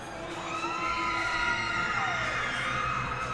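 A crowd at a women's college ice hockey game cheers and shouts at steady volume, with whoops and high voices rising over a constant arena roar as a player rallies the fans.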